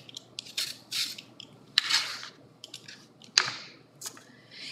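An apple being peeled with a knife from top to bottom, with soft close scraping strokes and rasps repeating irregularly, alone and fairly quiet.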